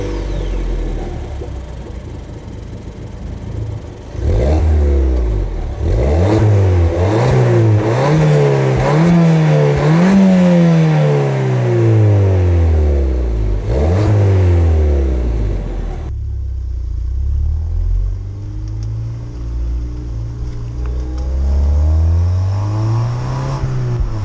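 A Ford Fiesta ST200 is driven from inside the cabin, its engine revving loudly and climbing in pitch through repeated accelerations, with pauses for gear changes, before it settles to a lower, steady hum.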